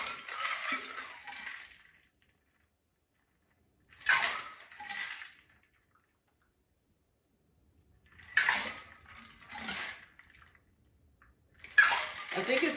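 Liquid pours in several separate bursts, each a few seconds of splashing and trickling, with quiet gaps between them, fairly close and moderately faint, with faint voices now and then.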